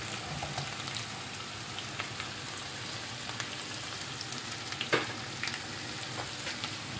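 Steady crackling sizzle of food frying in a pan, continuous and fairly quiet, with scattered sharper pops and no voices.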